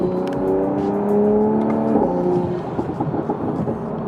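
A 2020 Toyota Supra accelerating on the road, its engine note climbing in rising harmonic sweeps, loud and close at first, then easing into a rougher, lower drone with road rumble underneath.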